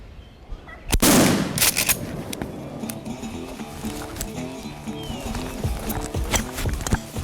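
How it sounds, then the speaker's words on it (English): A single loud gunshot close by during a wild turkey hunt, followed by rustling and movement sounds outdoors with faint voices. "took the shot and killed the turkey"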